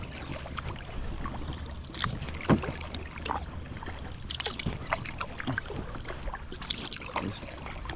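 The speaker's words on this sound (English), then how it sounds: "Alrighty, so paddling's going well." Paddle strokes of a packraft on a lake come through as soft, repeated splashes and drips, close by and steady over light wind noise, with no talk.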